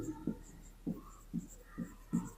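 Chalk or marker strokes on a board during a polynomials math lesson: six short, soft, close taps and scrapes in a fairly regular rhythm, with no talking.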